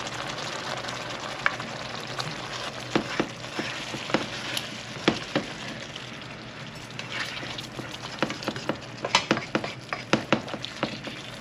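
Curried alligator pieces sizzle and fry in a hot pan, a steady crackling hiss with frequent sharp pops and spatters that grow busier toward the end, close and fairly loud.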